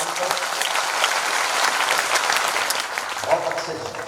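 A seated crowd claps to honour a visiting police station chief at a Holi festival gathering, dense sustained applause close and loud, thinning slightly near the end as a voice rises over it.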